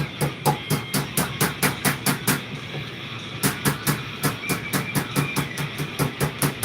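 Hammer held flat striking metal on a wooden mallet: rapid, evenly spaced sharp taps, close and distinct, in two runs separated by a short pause around the middle.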